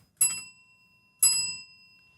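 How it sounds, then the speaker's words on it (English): A small bell is struck twice about a second apart, each bright ring cutting in sharply and then fading, close and clear with no talking around it. "I should ring 3 bells every time there's a number 3 question."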